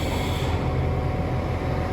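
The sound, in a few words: train at the station platform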